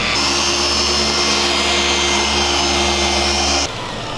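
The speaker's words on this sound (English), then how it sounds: "getting the carbon fiber all polished up" A machine polisher whirs steadily over the carbon fiber roof of a BMW M5, a loud, close, continuous motor drone that cuts off near the end.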